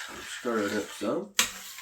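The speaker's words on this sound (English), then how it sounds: "Stir it up some" A spoon stirring thick chili beans in a pot, giving a couple of short scraping, rubbing strokes, close up, followed by a brief sharp clack.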